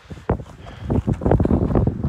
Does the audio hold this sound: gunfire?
no